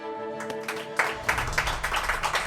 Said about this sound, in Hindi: मकान मालिक बापोद्रा के लिए तालियां